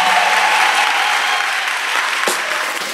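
A congregation at a singles' retreat claps loudly in praise, a thick wash of applause that fades slightly toward the end, with a faint voice mixed in.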